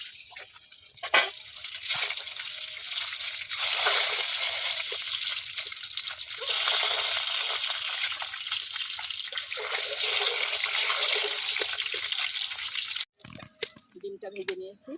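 Peeled boiled eggs fry in hot mustard oil, giving a steady, bright sizzle and crackle that fills most of the clip, then breaks off into a few clattering knocks at the end.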